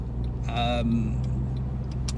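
A Porsche 997 Carrera 4S with a PSM fault creeps along slowly with its engine still cold, giving a quiet, steady low hum from inside the car, with a brief chime-like tone early on.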